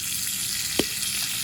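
Seasoned limpets cooking on a camping BBQ by the coast, giving a steady close sizzle with one brief knock or scrape partway through, with no talk.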